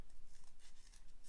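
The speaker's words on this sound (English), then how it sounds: "take your scissors like I'm doing and trim it down so that it's kind of even" Scissors trim the rim of a paper tube for a paper mache Jack Skellington jack-o'-lantern, giving a rapid series of close, crisp snipping and rustling cuts with no talking.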